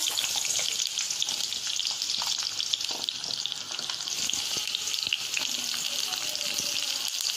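Small onions sizzle and crackle steadily in hot oil for pepper chicken, a continuous close frying hiss with occasional stirring clicks.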